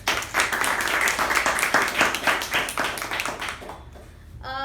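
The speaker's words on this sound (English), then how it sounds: "A round of applause for her, please" Audience applause at a Toastmasters meeting: dense, steady clapping from a roomful of people, close and fairly loud, fading out near the end before a brief new sound cuts in.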